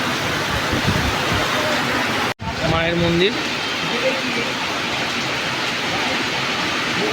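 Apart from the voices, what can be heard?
heavy rain falling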